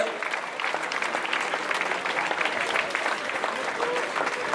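A crowd at the Tour de Romandie 2018 final-stage podium ceremony claps continuously for several seconds for the cycling race winner, dense and even applause with some voices mixed in.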